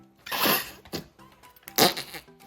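Squeezed store-bought slime lets out two short, squelchy fart-like bursts close up, the first longer and the second a beat later.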